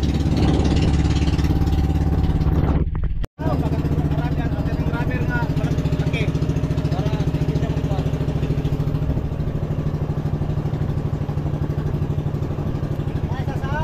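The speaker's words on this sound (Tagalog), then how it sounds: "isang makina lang yung nakaandar" A large wooden outrigger boat motors along on a single running engine, a steady low drone continuing throughout with one abrupt cut near the start, while people talk over it.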